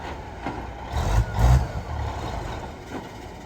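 A Freightliner truck engine rumbles low and close at idle, its exhaust puffing in a couple of brief surges before easing back to a steady drone.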